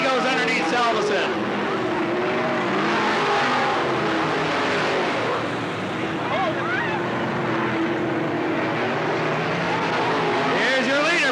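Race cars roar around the Cottage Grove Speedway in 1991, a continuous loud engine drone with passing revs rising and falling, while an announcer calls the race over the noise.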